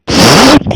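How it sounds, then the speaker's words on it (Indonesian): A loud, close fart sound effect in a martial-arts story audio drama: one long, buzzing, rasping blast followed by a couple of shorter sputters, with no talk over it. "dia kembali kentut"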